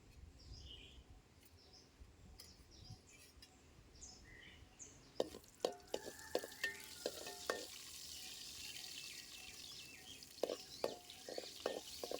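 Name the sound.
cashews frying in oil in a wide kadai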